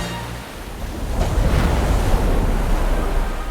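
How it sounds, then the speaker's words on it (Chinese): Pearl River water surging and rolling into the sea, a broad, steady roar of surf and wash that swells after the first second and stays loud, with some wind noise buffeting the microphone. "而珠江滔滔奔流入海"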